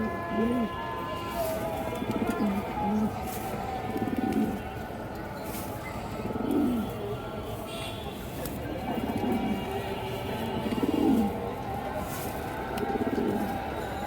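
Repeated soft pigeon coos in a steady rhythm, several birds nearby, with someone talking over them throughout.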